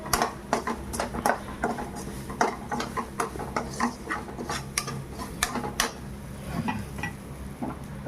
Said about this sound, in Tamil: இடித்து வச்ச பூண்டு, இதையும் நல்லா நம்ம கொஞ்சம் வதக்கிக்கணும் சேர்த்து.